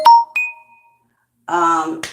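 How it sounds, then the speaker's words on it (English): A phone gives a bright ringing ding with a lingering tone, then a short pause and a louder buzzing, melodic ring burst. Close and clear, with no talk. "I really gotta take that phone call."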